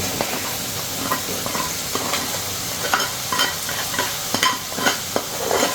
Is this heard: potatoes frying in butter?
yes